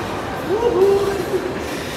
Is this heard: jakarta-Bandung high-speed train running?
yes